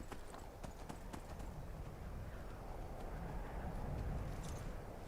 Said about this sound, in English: Just gallop the horse up to the front gates of Windhelm